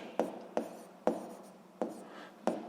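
A marker or pen writing a formula on a board during a physics lesson, five distinct scratchy strokes in an uneven rhythm, close and clear with no talking.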